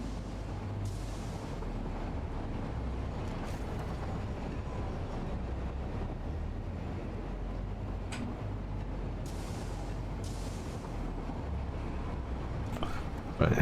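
Trains in the video game Satisfactory rumble and roll in, a steady loud low mechanical drone with a few faint clanks, continuous without pauses.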